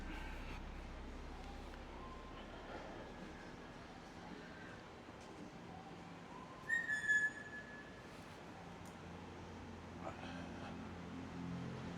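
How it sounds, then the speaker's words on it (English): Someone whistles from a building along a back street in Vlorë, a short, faint, high two-note whistle heard at a distance over steady street noise, with a fainter whistle following later. "Every time I pass this building, somebody does that whistle."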